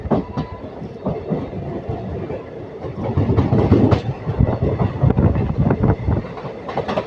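Guntakal passenger train rolling along the rails, a steady rumble with rhythmic clickety-clack of wheels over joints, close and continuous throughout, growing louder midway.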